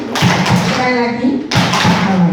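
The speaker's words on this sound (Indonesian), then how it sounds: "Tepuk 2 kali. Sekali lagi." A group of teachers at a workshop claps in two quick bursts, loud and close, with voices murmuring around them.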